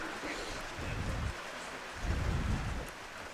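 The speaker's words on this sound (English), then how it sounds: "Just underway in the second quarter as the rain falls." Rain pours steadily over an outdoor high school football field during a game, a constant hiss with low rumbling swells that may be thunder or wind, no voices heard.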